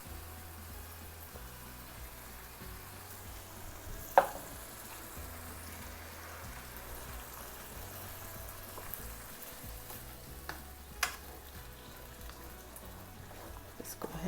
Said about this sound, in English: As our ground beef begins to cook down, we're just gonna go ahead and go in with our tomato sauce.